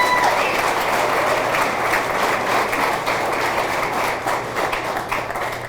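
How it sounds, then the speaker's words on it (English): Loud, sustained applause from a crowd at a high school athletic hall of fame ceremony, dense clapping filling the room from start to finish with a low steady hum beneath. "That deserves a round of applause right there."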